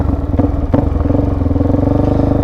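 A Suzuki DRZ400 dirt bike engine runs close by with a steady, loud, throbbing idle, briefly blipped once or twice and then settling back, with no voices over it.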